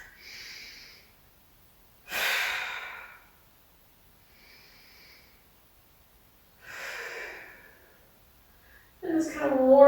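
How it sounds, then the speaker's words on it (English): Slow, deliberate breaths during a Pilates backbend, inhaling while tipping back and exhaling while coming forward, heard as soft airy swells spaced a few seconds apart, close and quiet, with a brief voice at the end. "And then we're going to inhale as we tip backwards. Exhale as we come forwards."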